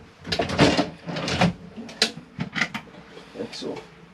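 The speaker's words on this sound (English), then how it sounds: "open the drawers if you just push the catch down or up" A caravan drawer catch is pushed and the drawer slides open with a short run of clicks, knocks and sliding rubs, close and fairly quiet, with a voice speaking nearby.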